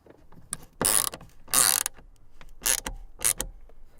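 Bolts for a Jeep Wrangler Rubicon side mirror being driven in with a ratcheting tool, four separate close whirring bursts of fast clicking with short pauses between, no voices.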